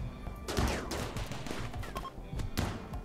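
Rapid gunfire in a RimWorld battle, a dense run of overlapping shots and bursts with sharp loud cracks throughout, close and continuous.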